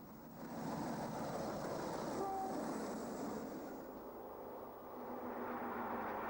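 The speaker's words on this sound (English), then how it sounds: "Followed by Brush Type 4 D1507 on a King's Cross Newcastle Tyne Commission key working." Brush Type 4 diesel locomotive D1507 hauling a King's Cross–Newcastle express near Retford in the 1960s, a broad steady rumble and roar of the passing train that rises quickly and holds, moderately distant, with no talk.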